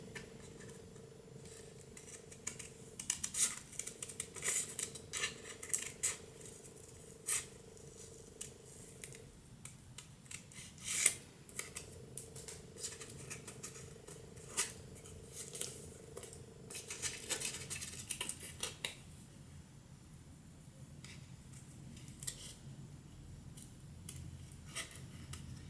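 Scissors trim a layered card piece for a shaped card design, giving soft snipping and rustling paper handling sounds in uneven bursts at close range, fairly quiet, with no talking.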